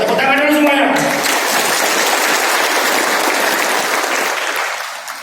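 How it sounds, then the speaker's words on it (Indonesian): Loud, dense applause from a large crowd at an Indonesian police anniversary gathering, with a voice speaking briefly over it at the start before the clapping carries on alone and fades slightly. "Tepuk tangan dulu semuanya."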